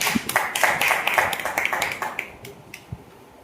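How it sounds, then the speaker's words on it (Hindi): Audience claps at a Hindi poetry gathering (kavi goshthi) for Hindi Day, a burst of sharp, fairly close hand claps that thins to a few scattered claps and fades out. "एक बार जोरदार तालियां।"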